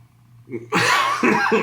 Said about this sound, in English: Excuse me for coughing so much.